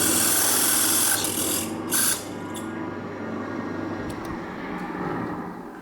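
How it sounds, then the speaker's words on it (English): A power drill bores a clearance hole for a self-tapping screw through a metal tube on an Iseki mini tractor, a steady close whining grind that dips and surges in brief bursts before settling into a lower, continuous drone. "Now I need to drill a hole big enough for the screw as a clearance drill."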